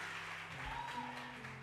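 A church congregation applauds during a service, a dense steady clapping that carries on throughout, with a faint tone of voice or music underneath.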